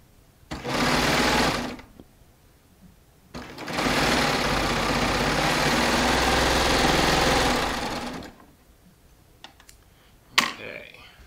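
A Baby Lock Triumph serger runs on Shannon Cuddle fabric with 4 thread stitching, a close mechanical whir in two bursts, a short one and then a longer steady run, with brief pauses and a small click at the end.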